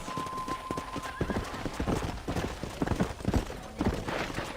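Hooves clip-clop steadily around a ranch corral in Red Dead Redemption, with a horse whinnying over the hoofbeats, close and fairly loud, with no talking.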